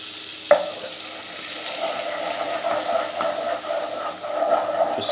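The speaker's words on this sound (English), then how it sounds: "Just stirring it round." A utensil stirs flour into melted butter in a pan for a homemade lasagne sauce, scraping and swirling over a soft sizzle, with a sharp clink against the pan near the start and no talking.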